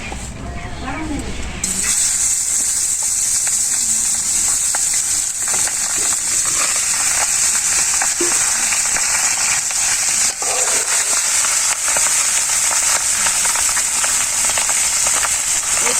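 Fish fries in a wok in a Bangladeshi village kitchen, a loud, steady sizzle that kicks in after a quiet couple of seconds and hisses on without pause to the end.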